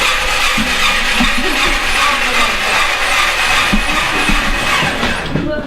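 Motorized earthquake shake table plate starting up, a steady loud mechanical rattling and grinding with irregular clanks throughout, no voices.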